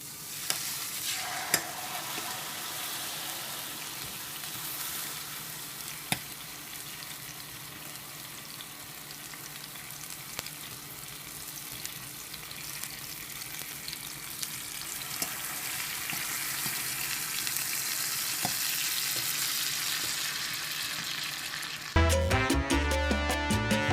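Bistec steaks frying in a pan on medium-high heat, a continuous close sizzle that slowly swells in intensity, ending with a sharp louder clatter, with no voices.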